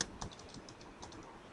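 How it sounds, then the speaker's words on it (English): Quiet keystrokes on a computer keyboard while Python code is typed, a few soft, close clicks spread across a short stretch of faint background noise. "we'll press enter and we'll type speech equal to input"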